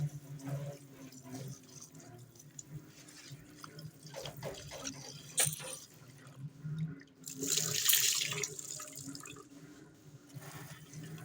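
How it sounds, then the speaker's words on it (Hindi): New potatoes caked in soil are washed under a running kitchen tap, with a steady, fairly quiet stream of water and irregular splashing and rubbing as they are handled. "सो अभी यहाँ पे आलू वगैरह धो लेते हैं"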